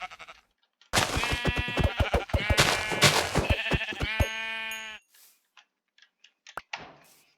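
Several Minecraft sheep bleat in a quick series of loud, close harmonic calls lasting about four seconds, followed by quieter clicks and scattered soft game noises.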